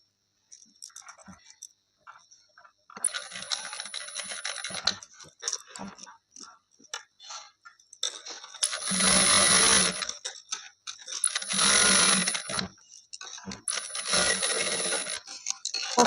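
A sewing machine stitches a pocket on palazzo pants in several loud, buzzing whirring bursts of a few seconds each, separated by pauses with soft handling sounds.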